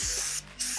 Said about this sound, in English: So spray it all around, one in the back, same thing in the back